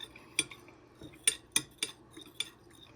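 A utensil stirs shea butter lip balm mixture in a container, giving a handful of sharp, irregular clinks and scrapes close by, with quiet gaps between them.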